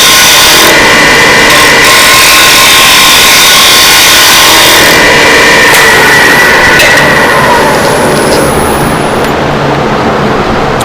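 A wood lathe spins a workpiece while a bevel-rubbing tool cuts it, giving a loud, continuous rough scraping roar that rises and falls slightly as the cut goes on, with no talking.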